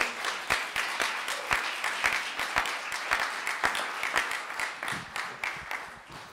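Audience applause for artists at a school art event, steady dense clapping with sharp individual claps throughout, moderately loud and close, no talk.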